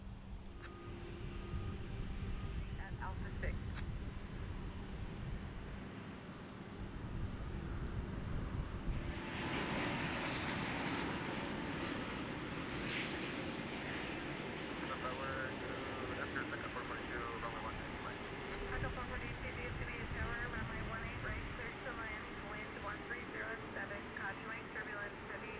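Aircraft engine roar at an airport swelling then holding steady for a long stretch as a plane bound for Frankfurt moves on the ground, distant and broadband, with people talking intermittently.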